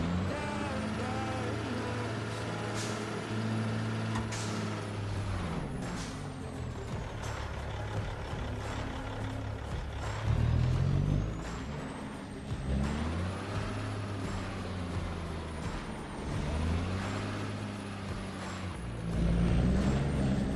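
A truck engine in Farming Simulator 25 rumbles low and revs up and down repeatedly, with a sharp hiss of air brakes among the changes in pitch.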